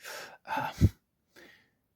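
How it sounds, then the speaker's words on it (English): A short, breathy yawn with a rising gasp and a soft exhale, close to the mic in a quiet room. "excuse me, I'm just yawning"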